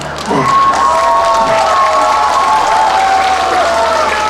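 Festival opening-ceremony audience applauding outdoors, a steady, loud patter of clapping with some cheering and a few raised voices over the top.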